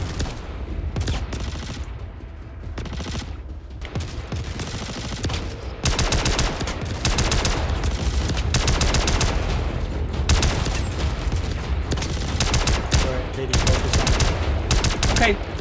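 Sustained bursts of automatic gunfire during night combat in the Star Citizen video game, dense rapid volleys that grow louder about halfway through, with occasional voices underneath.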